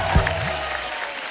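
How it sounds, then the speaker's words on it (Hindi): Studio audience on a TV comedy talk show applauding loudly after a guest is welcomed, dense close clapping that holds steady for the whole short stretch. "जोरदार तालियां हो जाए मैम के लिए।"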